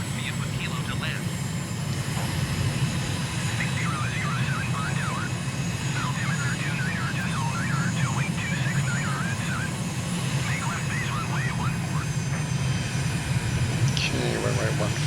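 Steady, loud drone of a simulated aircraft engine on approach to land in Microsoft Flight Simulator, continuous throughout with faint chirpy radio voices layered over it.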